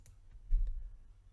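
A single computer mouse click, soft and close, one or two quick ticks over a low background hum.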